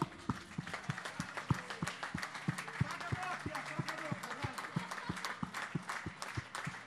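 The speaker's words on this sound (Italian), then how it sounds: "Io mi giro verso loro e vi faccio un applauso grandissimo." Rhythmic applause for orchestra musicians at a memorial concert, a crowd clapping in a steady, regular beat with a voice speaking over it throughout.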